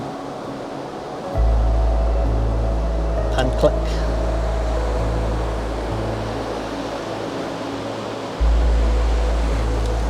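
Ocean waves roll onto a beach below dunes at last light, a steady broad wash of surf running under a voice throughout.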